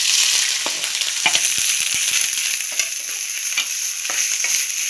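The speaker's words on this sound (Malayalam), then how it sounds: "ഒന്ന് പച്ചമണം മാറുന്നവരെ ഇളക്കി കൊടുക്കാം." Grated coconut frying and being stirred in a pan, giving a steady dense sizzle with scraping stirs and light clicks of the utensil throughout, close and fairly loud, no voices.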